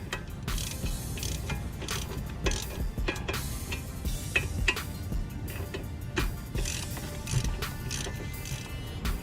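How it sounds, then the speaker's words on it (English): Ratchet clicks as an 18mm socket tightens the two lower strut nuts on a 2008-2012 Chevy Malibu front suspension, in quick close bursts of rapid ticking separated by brief pauses, with faint metallic clinks and no talk. "Now I'm going to use an 18mm socket to tighten the 2 nuts."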